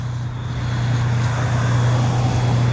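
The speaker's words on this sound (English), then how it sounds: "Listen to that Detroit diesel." A fire truck with a Detroit Diesel engine idles at a fire alarm call, a steady low rumble with a strong constant hum, continuous and fairly loud throughout with no talk.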